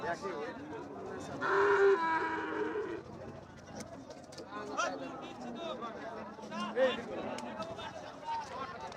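At a cattle market, a dairy cow gives one loud nearby moo while someone talks over steady crowd chatter, with other livestock sounds faint in the background.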